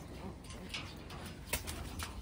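A racing pigeon coos softly and intermittently amid steady background hiss and brief scattered noises.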